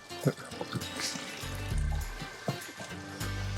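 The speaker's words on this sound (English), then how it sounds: "Gotta get a lot of that water out" Water is poured and sloshed out at a cabin homestead in uneven gurgling bursts, with splashes and trickles coming close and fairly quiet, while people talk over it.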